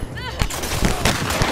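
Rapid bursts of gunfire crackle in The Last of Us Part 2, several sharp shots stacked close together over game sound effects, with a rising whine early on.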